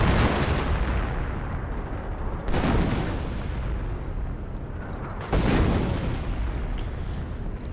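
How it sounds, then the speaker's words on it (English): Artillery shells landing in a Company of Heroes battle, a continuous roar of rumbling explosions with two heavier booming impacts standing out, loud and dense with no voices. "More artillery coming down."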